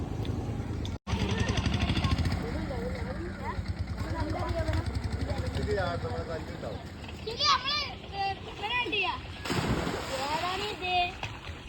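Boys shout and call out over steady outdoor noise, with bursts of splashing as they jump into water; excited young voices dominate throughout.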